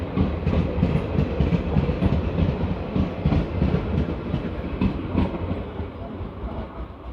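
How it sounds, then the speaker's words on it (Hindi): A Delhi to Jodhpur superfast express train rolls into Rampur Beri railway station, with a continuous loud rumble and rhythmic clickety-clack of wheels on rail joints that gradually eases as it slows. "और अभी अपनी ट्रेन पहुंची है रामपुर बेरी रेलवे स्टेशन पर"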